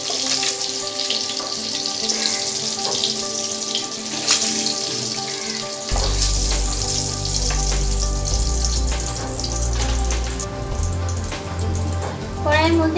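Eggs frying in oil in a wok, a continuous crisp sizzle and spattering crackle with scattered pops and utensil clinks, loud and close throughout, with a low rumble joining midway.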